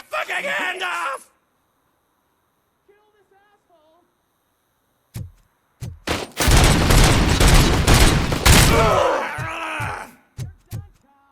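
Gunfire in the Robocop video game: a sustained loud burst of automatic fire lasting several seconds, bracketed by sharp single shots before and after, following a voiced groan and a quiet lull.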